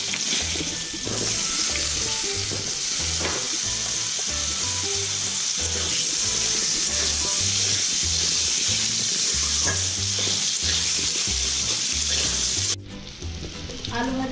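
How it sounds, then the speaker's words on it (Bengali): Potatoes frying in oil left over from frying rohu fish, a steady loud sizzle with occasional stirring scrapes throughout, cutting off abruptly near the end. "এবারে ওই মাছ ভাজা তেলের মধ্যে আমি আলুটা ভেজে নেব।"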